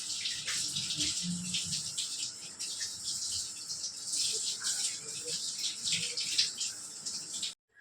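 Running water splashes steadily into a sink while potatoes are rubbed and knocked about under it, close and continuous, stopping abruptly at the end.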